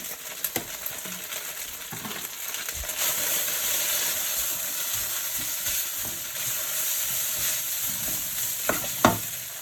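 Chicken and prawn pad thai stir-frying in a hot pan, giving a steady, moderate sizzle with occasional scrapes and knocks of utensils against the pan, no talk.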